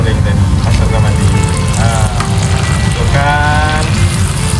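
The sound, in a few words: food frying in a pan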